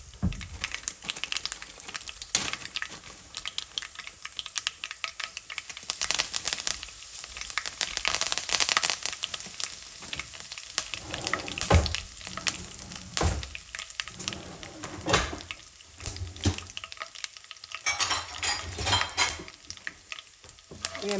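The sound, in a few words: curry leaves tempering, frying and stirring in oil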